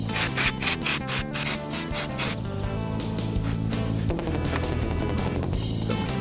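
Metal inside a Peugeot Boxer L2H2 van is sprayed with brake cleaner and wiped down, making rhythmic rubbing and brushing strokes close by that give way to a steadier scrubbing.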